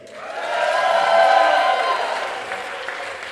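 A crowd gathered in a Pasadena church for a wildfire recovery town hall breaks into cheering and whooping with some clapping, swelling quickly, peaking, then easing off.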